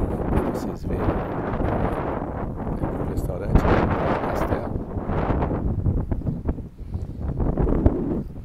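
Gusty, mild wind at Praia do Castelo beach, Costa da Caparica, buffets the microphone in rumbling waves, loud and close, rising and falling throughout with no pause.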